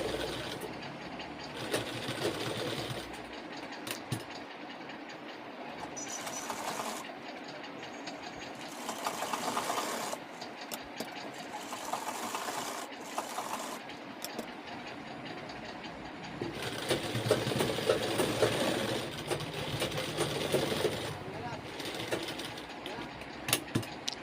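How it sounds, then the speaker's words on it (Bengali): Sewing machine stitching the back pocket of a pair of trousers, running in bursts of rapid mechanical whirring with short pauses between them, while a voice talks over it. "কেটে এখন সেলাই মারা হচ্ছে।"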